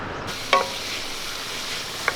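Chopped onions hit hot coconut oil in a pan, giving a steady soft sizzle with a couple of brief clinks from a stirring utensil; no one talks.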